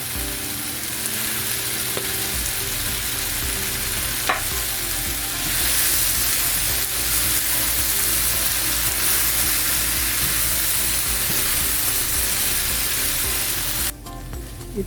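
Chicken chow mein noodles fry and sizzle in a hot pan for the whole stretch, a steady broadband hiss broken by stirring scrapes, close and loud with no talk.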